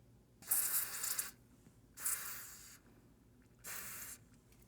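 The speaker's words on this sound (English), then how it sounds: "spray them with a bit of contact cleaner" Contact cleaner sprayed onto the transistors of a Roland SH 2000 synthesizer: three close, sharp hissing bursts, each about a second long, separated by short pauses.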